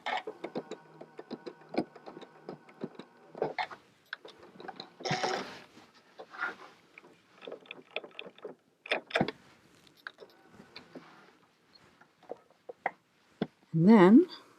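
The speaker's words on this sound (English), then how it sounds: "I'm going to lock off my stitches here" A sewing machine locks off stitches on an appliqué, giving short bursts of quick mechanical clicking and whirring separated by pauses, close and moderately loud.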